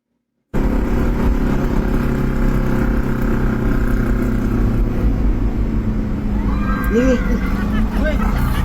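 A pickup truck engine idling and rumbling nearby, loud and continuous once it starts, with voices and crowd noise mixed in.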